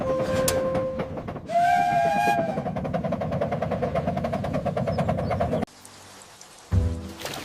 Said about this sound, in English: T is for train.